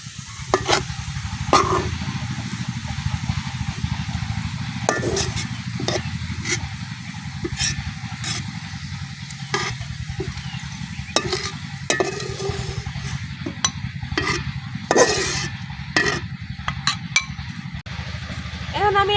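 Onions frying lightly red in oil while being stirred give a continuous low sizzle, broken by frequent clinks and scrapes of a utensil against the pan. A person talks throughout.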